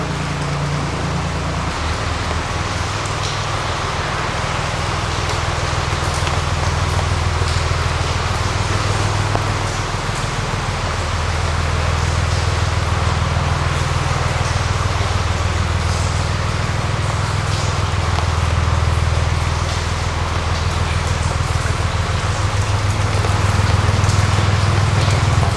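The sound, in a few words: water drips falling into canal water inside narrowboat tunnel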